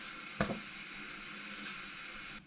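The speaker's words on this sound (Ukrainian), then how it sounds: "О, починає кипіти." Stingray in a pan bubbles and sizzles with a steady hiss after a brief clatter, close and quiet, ending abruptly.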